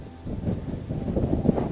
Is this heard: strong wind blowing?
yes